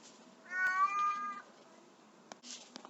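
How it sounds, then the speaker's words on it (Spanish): A pet cat lets out a single drawn-out, close meow lasting about a second, followed by a few faint soft clicks and rustles in a quiet room. "esa fue mi gata."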